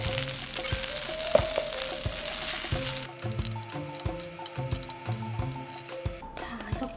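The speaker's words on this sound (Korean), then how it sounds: "센불 한 번 파이어 계속 좀 지글지글 확 하네" Ramen fried rice sizzles in a hot pan over high heat, a steady crackling fry close up with scraping and clinks from stirring, continuing throughout.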